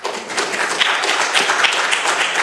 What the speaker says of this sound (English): I would ask everybody to refrain from applause after each speaker